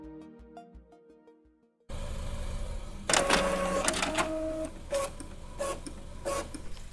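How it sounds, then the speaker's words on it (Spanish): An inkjet printer running off an inverter while printing a document sent wirelessly from a laptop: after a quiet start the mechanism starts up with steady whirring, then repeated mechanical clacks and short motor bursts as the paper feeds, close and fairly loud. "vean si funciona la impresora a tinta y la laptop con el inversor"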